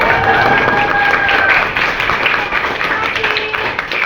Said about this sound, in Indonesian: tolong dibantunya dengan tepuk tangan meriah